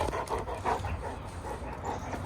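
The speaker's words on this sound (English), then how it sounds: "Stovey's our newest dog" Rhythmic, fairly loud panting from a nearby dog in a backyard, steady breaths repeating for a couple of seconds with no talking over it.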